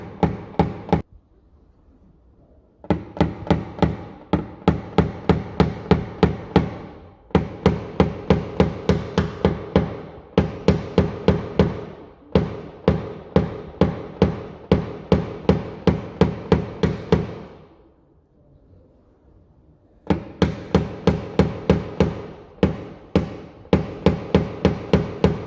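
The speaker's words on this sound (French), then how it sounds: "je vais positionner mon crayon à taper sur la carrosserie et je vais tapoter doucement pour aplanir ma tôle" Light, rapid taps of a tap-down pen on a car's sheet-metal body panel to flatten a dent, heard in quick bursts of closely spaced knocks separated by short pauses, close and clear with no talking.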